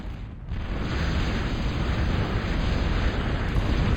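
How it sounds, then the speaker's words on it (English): Zombie toaster unit firing shots in a Total Annihilation real-time strategy match on the Great Divide map, a dense continuous rumble of explosive bursts that swells after a brief dip and holds loud and steady. "The zombie toaster is firing away"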